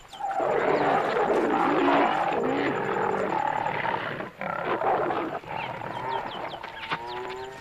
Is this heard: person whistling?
no